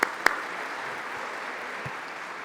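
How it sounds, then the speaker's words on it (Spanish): A forum panel audience in a hall applauds, a sustained even wash of clapping opened by a couple of sharp nearby claps. "Por favor, un aplauso."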